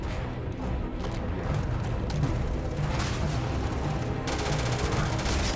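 Gunfire in Starfield: a sustained barrage of rapid shots, loud and close, growing denser and brighter toward the end.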